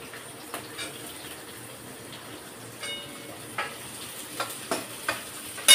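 Onions drop into a pan of fried garlic and chili and sizzle softly, a faint steady frying hiss with a few light clicks and scrapes growing slightly louder near the end, no voices present.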